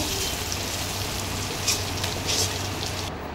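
Chopped onions fry in hot oil in a pan, a dense steady sizzle heard up close with a few brief rustling scrapes as they are stirred.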